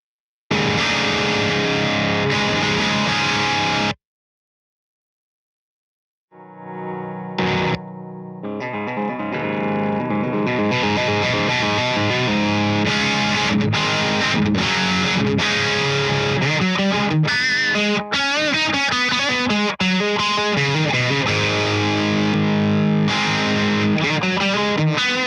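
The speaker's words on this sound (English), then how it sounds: "it's making the guitar louder. So whatever you're putting out, it's just louder." A distorted, boosted electric guitar plays loud chords and riffs, briefly stopping into silence before resuming with a sustained, driven tone.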